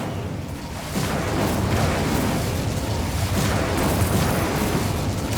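A fire spell, Incendio, cast in a Harry Potter video game: a loud, sustained roaring burst of flame that swells after a brief quieter lead-in and rushes on steadily for several seconds, with no voices over it.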